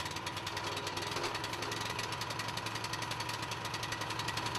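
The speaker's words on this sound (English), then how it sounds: "When the engine starts, open the throttle and allow the engine to reach full speed." An EDCO CPM8 scarifier engine running at full throttle, a steady, rapid hammering drone with fast regular pulses, continuous and fairly close with no voices.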